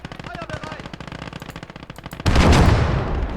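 Heavy gunfire from the video game Legion of the Damned, with a dense run of rapid shots that gives way to a louder sustained roar of artillery blasts. Voices talk over the battle.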